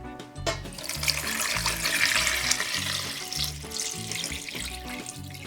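Tap water running into a saucepan on a kitchen stove, a steady close gushing splash that holds throughout, with a low rhythmic pulsing beneath it and no talking.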